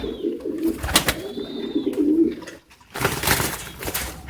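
Pigeons in a loft, including fancy breed birds, giving low repeated coos close by, with rustling and a short quiet gap before more cooing and movement.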